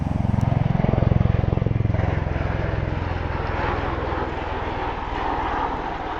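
Rotor aircraft landing at RAF Mildenhall, a loud, steady, close engine and rotor roar with a rhythmic low thumping throughout, swelling early and then holding.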